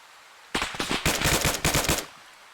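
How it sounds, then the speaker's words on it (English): Automatic gunfire in the military shooter ARMA 3, several rapid close bursts over about a second and a half, loud and alone without talk. "Sicario, I just hosed one in the back."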